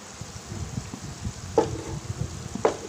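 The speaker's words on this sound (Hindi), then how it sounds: "इस तरह से हल्के हाथों से इस तरह से चामच से हिला हिला के फ्राई कर लूँगी" Gulab jamun fry in hot oil in a pan, with a soft bubbling sizzle and two sharp spoon clinks as they are gently stirred.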